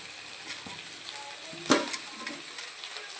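Onion and shidol, a fermented dried fish, sizzle in a pan with a steady soft frying hiss, and a sharp clatter of stirring lands near the middle of the stretch.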